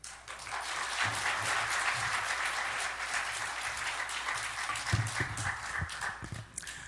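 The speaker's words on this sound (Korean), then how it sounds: "큰 박수 부탁드립니다." Congregation applause fills a church evangelism festival service, a steady dense wash of clapping that holds for the full stretch with a few louder bursts near the end.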